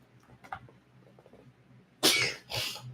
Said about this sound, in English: Oh my god, I keep sneezing.